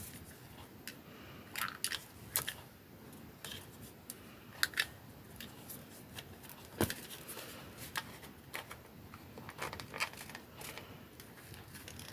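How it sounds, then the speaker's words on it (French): Scissors snip and crunch through a paper Christmas card, close and dry, in a string of irregular cuts with sharp clicks, and no voice heard. "Je vais le faire avec les ciseaux"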